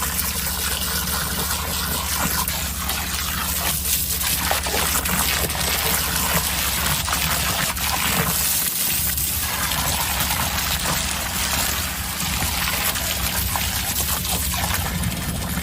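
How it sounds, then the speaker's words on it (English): Water pours steadily and continuously at close range into a drain blocked by tree roots and debris, a constant rushing gush with no talking. "I'm just going to get a bit of water in first"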